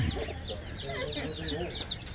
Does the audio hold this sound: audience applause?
no